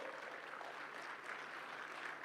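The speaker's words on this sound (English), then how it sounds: "A huge round of applause, please, for Dr. Merritt Moore." Audience applause at a large world summit event, a steady, fairly faint wash of clapping that runs throughout the whole short stretch without any clear talk over it.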